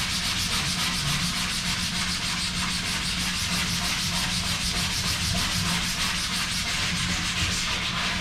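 A coarse scrub brush scrubs hard across a screen printing screen, working both the print and ink sides in a steady, unbroken rasping scrub that stays loud and close throughout, with no talking.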